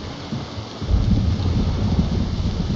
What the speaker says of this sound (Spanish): Ok, por fin se apagó la tormenta